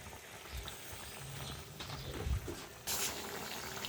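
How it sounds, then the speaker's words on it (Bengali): Shoul fish curry with radish simmering in a pan, a steady soft bubbling and hiss throughout, close, with a brief louder clatter near the end. "দেখতেই পাচ্ছেন মোটামুটি ভালোই ফুটে উঠেছে।"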